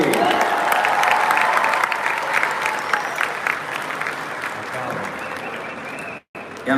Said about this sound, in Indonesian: Tepuk tangan untuk semua yang hadir di sini.